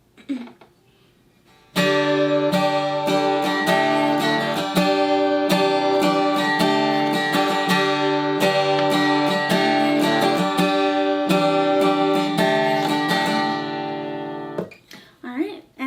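Guitar strummed in a steady, driving rhythm through a chord progression, loud and continuous, stopping abruptly near the end.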